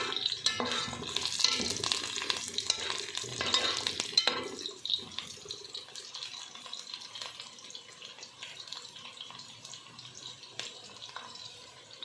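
Onions browning in a pan for mutton yakhni pulao, a steady sizzling hiss with stirring scrapes, louder at first then settling into a quieter continuous fry.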